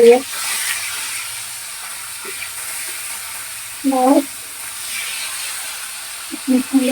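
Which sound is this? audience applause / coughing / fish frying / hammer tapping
fish frying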